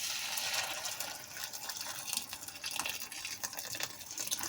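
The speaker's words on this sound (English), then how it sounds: "I'm going to pour some of this boiled water on" Boiled water poured from a kettle while making a cheap curry at home, a continuous splashing and trickling stream that stays fairly even, close by, with no talking.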